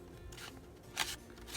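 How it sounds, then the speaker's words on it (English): Scissors cutting up the center of a paper envelope for a junk journal, soft close snipping and rustling with one brighter crisp cut midway. "we're going to cut, we're going to cut right up the center"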